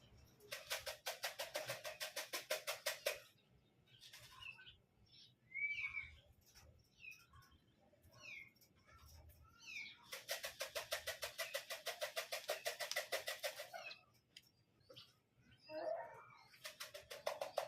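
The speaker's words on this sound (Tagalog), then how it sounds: "may lumalanding na po na ibon natin mga boss" Racing pigeons land on a roof with two loud bursts of rapid wing-fluttering. Scattered soft bird chirps and calls fill the quieter stretch between the bursts, and the whole scene is fairly low in level.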